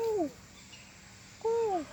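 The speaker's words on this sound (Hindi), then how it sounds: "ये कोयल जरा बोल के सुना दे रे, हम तेरी आवाज़ के दीवाने हैं।" An Asian koel calls outdoors, two clear rising-then-falling whistled notes separated by about a second of quiet, moderately close and loud against faint background hum.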